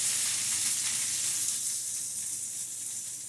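Chicken wings sizzle and fry steadily in a pan for hot wings, a close, even hiss with no talking over it.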